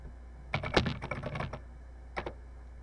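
Keys clatter on a Texas Instruments TI-99/4A computer keyboard as a program is typed in, a quick burst of close, crisp keystrokes followed by a pause and a couple more presses over a low steady hum.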